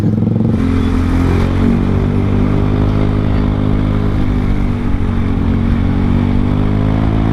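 Loud motorcycle engine revving close by, its exhaust note rising and holding as a continuous, rattling drone with no talking.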